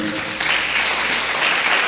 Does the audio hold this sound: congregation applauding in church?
yes